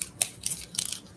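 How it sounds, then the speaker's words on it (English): A hole being punched through thin craft material for a DIY constellation flashlight: a few short, sharp crunching clicks and crinkles, close and fairly quiet, with no talking. "we're going to punch a hole through it"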